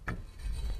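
A stone puzzle pillar turning in the Skyrim Creation Kit, a short rough rubbing grind with a low rumble, close and moderately loud, under a second long.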